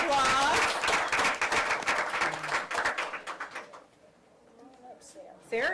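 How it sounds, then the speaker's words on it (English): Audience clapping at a school board meeting breaks out as loud, steady applause, then thins and fades into scattered claps within a few seconds before a last burst. "Let's give her a round of applause."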